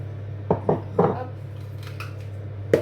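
Butter and icing sugar worked together in a mixing bowl for a Christmas wreath bake, heard as a few distinct clinks and scrapes of a utensil against the bowl, spaced irregularly over a steady low hum.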